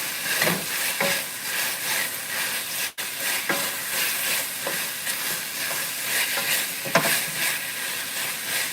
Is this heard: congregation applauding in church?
no